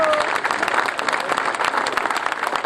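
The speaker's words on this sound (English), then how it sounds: "Please, long round of applause." Dense crowd applause fills the air at a Military Order of the Purple Heart parade in Peekskill, NY, a steady wash of many hands clapping at close range, with scattered voices underneath.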